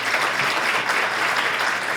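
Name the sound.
audience applause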